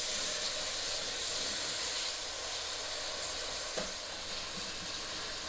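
Ginger, garlic and onion frying in a pan for a spicy chicken jaal fry, giving a steady, close, loud sizzle and hiss with no voices over it.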